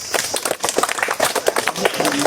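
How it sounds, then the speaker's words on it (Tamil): An audience claps in a steady, dense patter of applause at a talk on house building and cool places to build homes, with a voice speaking over it. "அவருக்கு ஒரு கைத்தட்டுங்க"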